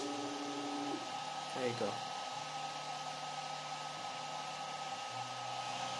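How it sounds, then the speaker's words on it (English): A small Ubuntu-branded 3D printer powers up to prepare a print job, giving a steady motor and fan hum with shifting stepper tones and a brief clatter near the start. A voice speaks briefly over it. "immediately your printer will start to prepare to start the job"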